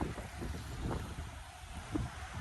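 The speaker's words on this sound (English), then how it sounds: "here comes the wind, so you may not be able to hear me" Gusty wind buffets the microphone outdoors beside a small brook on a walk, producing a low, rumbling roar with a few stronger puffs and no voices.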